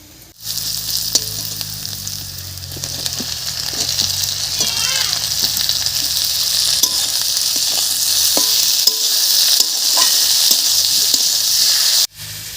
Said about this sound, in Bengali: পেঁয়াজ আর লঙ্কাটা হালকা লাল করে ভেজে নিয়েছি এবারে দেবো কেটে রাখা টমেটো